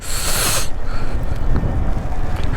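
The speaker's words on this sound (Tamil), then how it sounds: "மழை அடிக்குதுங்க, நல்லா அடித்து பிரிக்குது." Heavy rain and strong wind roar steadily against a motorbike rider on the road from Coimbatore to Valparai, a loud, continuous rushing buffet with no voices.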